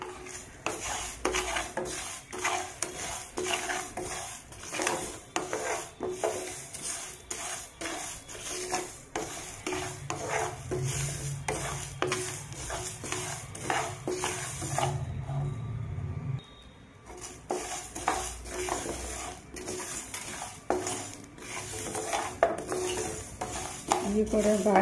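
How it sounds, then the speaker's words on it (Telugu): Mustard seeds, black pepper and raw rice dry-roasting in a pan for sambar powder, stirred with a metal spoon, giving continuous scraping and rattling close by with a low hum partway through. "ఇవన్నీ కలిపి వేయించుకుందామండి."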